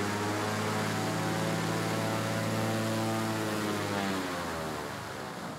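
Propeller airplane engine in Alaska, a loud, steady droning hum with a throbbing tone that holds evenly before easing slightly toward the end.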